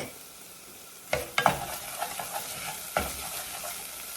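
Onions, garlic and celery sizzle steadily in a pot, a close, continuous frying hiss with a few sharp stirring knocks and scrapes of a spoon against the pot; no speech.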